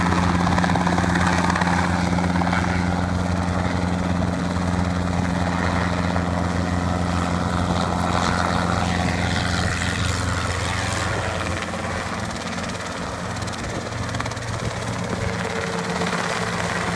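Helicopter hovering low over a lawn, its rotor downwash used to blow freshly mowed grass clippings; a loud, steady rotor and engine roar fills the whole stretch with no talking.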